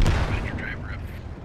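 Point-blank tank cannon shot on a BTR armored vehicle in the Squad video game, a heavy boom up front with low rumbling gunfire and explosive noise continuing across the moment, voices talking over it.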